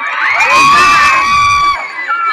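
An audience cheers, whoops and shouts loudly as one sustained crowd roar, with high excited voices rising above the mass for about two seconds before a brief dip and a renewed burst.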